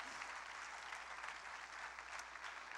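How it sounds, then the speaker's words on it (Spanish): A church congregation gives steady, sustained applause during a sermon, a dense, even clatter of many hands that sounds distant and fairly quiet, with no voices clearly heard. "Dale más fuerte ese aplauso al Rey"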